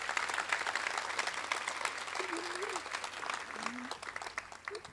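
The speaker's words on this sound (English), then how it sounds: "would you like to clap for the mayor again?" A graduation ceremony audience applauds the mayor, a dense, fairly distant wash of clapping that fades toward the end, with brief voices murmuring underneath.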